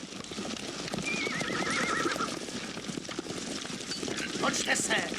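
Horses gallop with steady clip-clop hoofbeats and loud neighing and whinnying during a chaotic chase scene in the 1975 Czech dubbed drama-musical film about Romani people, with shouting voices mixed over the commotion.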